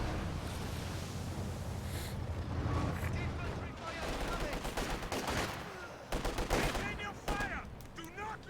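Cannon blasts and gunfire in Company of Heroes 2 battle: rattling bursts of shots and heavy booms, growing denser and louder toward the end, with a voice talking through it.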